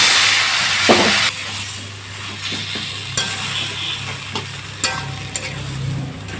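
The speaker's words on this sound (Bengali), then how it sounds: "তরকারিটা নেড়ে নেড়ে শুকনো করে নিতে হবে" Pumpkin leaf curry (kumro shak chorchori) being stirred and dry-fried in a pan with onions, a steady sizzle and hiss under repeated scraping strokes of a spatula, close and fairly loud, with no talking.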